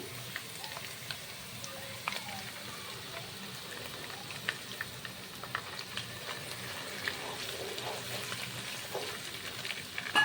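A blended spice paste with garlic and ginger paste, bay leaves and cinnamon fries in a pan, giving a soft, continuous sizzle with scattered spoon scrapes from stirring. It stays faint and fairly distant.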